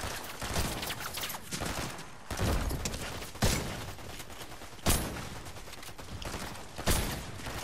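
Gunfire in a shooting video game: dense, faint bursts of rapid shots with several heavier blasts standing out at intervals, continuing without a break.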